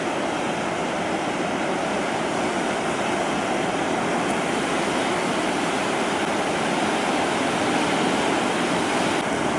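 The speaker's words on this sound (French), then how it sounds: "Aujourd'hui, la mer en plus est agitée." Rough sea surf pounding at the foot of an eroding coastal dune on the Côte d'Argent, a loud continuous roar of breaking waves with no voices.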